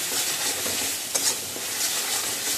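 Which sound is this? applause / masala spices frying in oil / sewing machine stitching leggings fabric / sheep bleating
masala spices frying in oil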